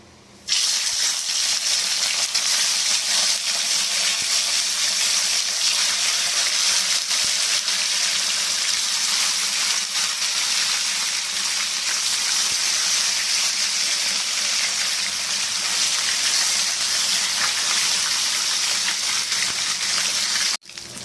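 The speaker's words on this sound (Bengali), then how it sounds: "পরিমাণ মতন তেল দিয়ে মাছগুলো আগে ভেজে নেবো" Steady, loud frying hiss of fish frying in oil in a pan on a gas stove, the oil bubbling without pause, a dense sizzle holding constant throughout with no voices.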